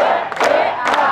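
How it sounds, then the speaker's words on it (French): A church audience at an evening remission-of-sins gathering breaks into loud cheering and applause, two swelling bursts of crowd noise close to the microphone. "Applaudissons."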